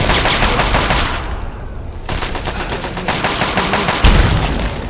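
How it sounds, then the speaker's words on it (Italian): Rapid bursts of heavy cannon fire in the video game Fallout 3 pound continuously, loud and close, with a brief lull and a sharp boom near the end. "Cannoni."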